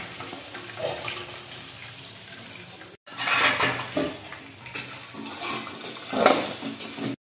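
Vegetables for fried rice tumble into a frying pan after lightly fried cashews and raisins, bringing faint clatter and a soft hiss, then louder bursts of scraping and sizzling after a brief cut.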